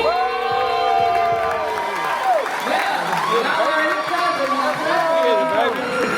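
An award-ceremony crowd cheers for the Media Personality of the Year winner, with loud whoops and shouting voices over scattered clapping and lively crowd noise.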